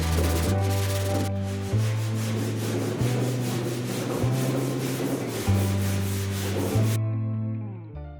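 Someone sands the edges of a shed-built aluminum race car body beside masking tape, with repeated rhythmic rubbing strokes up close over steady background music that carries on alone once the sanding stops.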